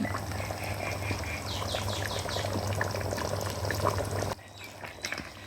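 Water poured into a clay pot of pork cooking village style, a steady close splashing pour over a bubbling simmer with faint outdoor background, stopping abruptly near the end.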